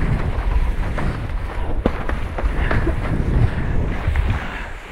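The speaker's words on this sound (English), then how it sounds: "Oh no, this is windy out here." Strong wind buffets the microphone on the beach at Big Bay, Cape Town, a constant rough roar with gusty thumps and surges throughout.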